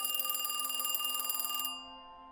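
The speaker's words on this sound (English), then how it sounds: "Ub and Walt are sitting around the phone waiting for it to ring." An old telephone bell rings in a rapid, continuous metallic trill for about a second and a half, then cuts off and leaves a fading ring.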